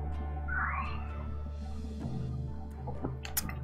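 A white cat meows in a short, plaintive cry against a steady low hum of background music, fairly faint, followed by brief clicks and small noises.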